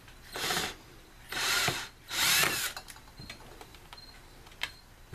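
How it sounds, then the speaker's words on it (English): A power drill unscrews two screws from a folding chair, whirring in three short bursts, followed by light ticks and clicks from the screws and the workpiece. "So I'm going to unscrew these 2 screws here."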